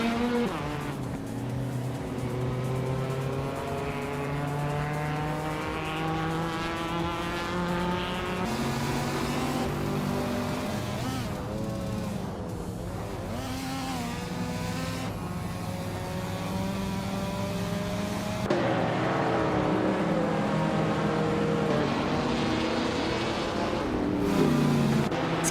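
Several race cars in a video game roar along close together, their engine notes rising and falling steadily and continuously with occasional tire squeal, loud and up front throughout with no talk.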